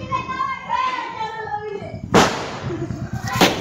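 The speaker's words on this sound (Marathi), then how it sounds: "लवंगी फटाकडा वाजणार आहे तो." After a voice calls out, two sharp lavangi firecracker bangs go off during Diwali about a second apart, loud and close, each with a brief crackling tail.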